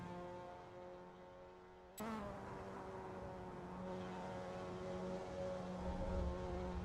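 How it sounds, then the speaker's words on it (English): Engine drone from a Mazda MX-5 (NA) in a sim racing game at the Fonteny circuit: a steady harmonic hum that jumps abruptly in pitch and loudness after two seconds, then holds a sustained, slightly rising tone. "You can hear that car just wanting to go a little bit quicker."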